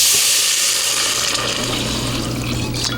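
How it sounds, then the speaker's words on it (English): Chicken or meat stock poured into a pan of browned sausage, a steady close watery splash and trickle running the whole time with no talk over it. "To this now, I'm going to add my stock"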